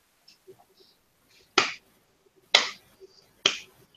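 Orsini, a character in a video game, gives three slow, widely spaced claps that ring out sharply and close over a quiet backdrop with faint murmurs.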